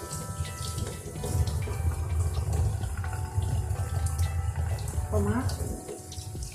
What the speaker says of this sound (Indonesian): Kita cuci bawang. Kita cuci daun mint.